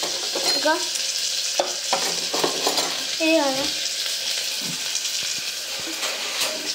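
A spoon stirs monitor lizard curry in a pot over a continuous frying sizzle, with a few scraping strokes and brief voices talking nearby.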